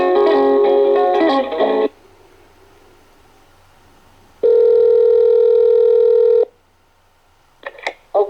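Telephone receiver sounds a sustained dial tone, then after a pause a second steady tone, followed by short touch-tone dialing beeps at the end, loud and close with no voices.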